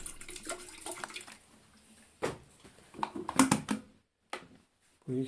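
Water pours in short splashing bursts into a GRUNHELM electric kettle that is being repaired, close and fairly quiet, with brief pauses between the pours.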